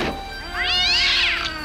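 Cartoon cat meowing, a single drawn-out rising and falling meow heard clearly and loudly on its own.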